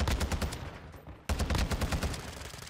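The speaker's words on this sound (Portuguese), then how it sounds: "E agora que eu atirei, ele vai aparecer." Rapid automatic gunfire in the Call of Duty video game: close, loud bursts of quick shots, a short pause, then another fast volley.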